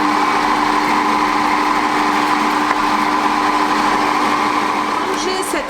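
A kitchen food processor runs at speed 4, blending olives and parmesan with a steady, loud, high motor whine that holds evenly for several seconds.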